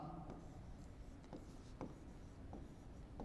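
Marker strokes squeak and tap on a classroom board as names are written, a few short scratchy strokes and sharp taps spaced across the stretch, faint and close with no talking.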